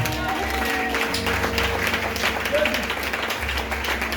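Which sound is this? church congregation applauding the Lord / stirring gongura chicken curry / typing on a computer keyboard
church congregation applauding the Lord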